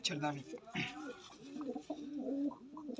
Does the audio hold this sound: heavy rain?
no